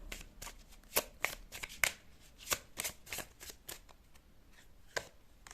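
A deck of tarot cards being shuffled by hand, a loud close run of crisp riffling slaps and flicks in an uneven rhythm, with no voice over it.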